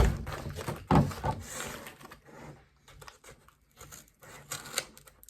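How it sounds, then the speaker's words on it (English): Scissors snip and slice through crinkly packaging material around an iPad in several uneven bursts, close and fairly loud, with quieter rustling between cuts. "So we cut the excess off."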